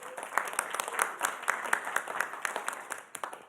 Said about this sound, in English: please give yourselves an applause for that right now